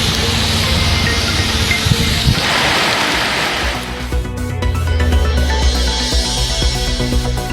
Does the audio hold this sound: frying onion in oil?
no